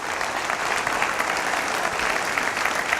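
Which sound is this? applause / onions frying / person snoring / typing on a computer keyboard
applause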